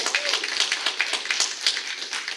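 Comedy club audience clapping in a steady patter of many hands, moderately loud and sustained across the moment.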